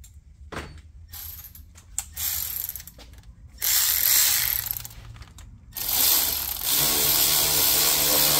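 A hand ratchet tightens clamps on a Mercedes S550 W222 M278 engine, with scattered single clicks first and then two long, loud runs of rapid close ratcheting.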